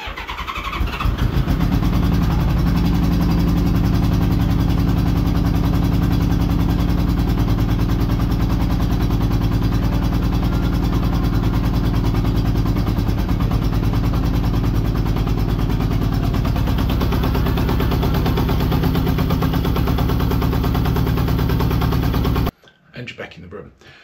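A Honda Goldwing GL1200 engine cranks and then runs with a rough, lumpy idle, loud and close and sustained for over twenty seconds before cutting off abruptly; a voice talks at times over it.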